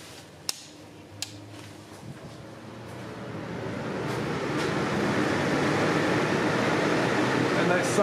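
Industrial-style extraction fans in a car bodywork shop start with a few clicks, then build into a steady broadband whoosh that swells and holds loud and close.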